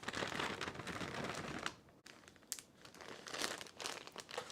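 A plastic freezer bag is crinkled and rustled up close as blueberries are packed into it. The crackling comes in busy bursts with a brief pause midway, then resumes.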